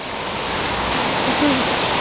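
A steady broadband roar of a roadside waterfall on a mountain road, close and constant with no break.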